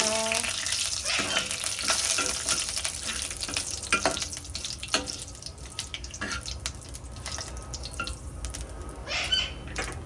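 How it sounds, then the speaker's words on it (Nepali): Bay leaves with five-spice seeds fry in hot oil in a pan, producing a steady, close crackling sizzle with scattered pops and occasional scraping. "यसलाई एकछिन फ्राई गर्नुपर्छ"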